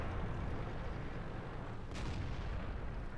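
A tank cannon shot from World of Tanks, fired by a Churchill VII: a dull, heavy boom in the middle of a continuous rumbling battle backdrop, fairly distant and muffled.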